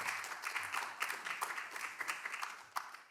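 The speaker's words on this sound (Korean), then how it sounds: "여러분 힘찬 박수로 축하해 주시길 바라겠습니다" A small audience at the official premiere of the Korean independent film Dang Ming Out claps faintly for a plaque presentation by the Korean Pediatric Diabetes Association, scattered, uneven claps continuing for about three seconds.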